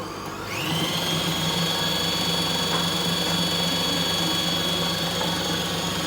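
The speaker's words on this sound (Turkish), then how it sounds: "Mikserimizi kullanacağız bunun için." An electric hand mixer whirs to life after a brief moment and runs at a constant high-pitched drone, loud and close, mixing chocolate cake batter.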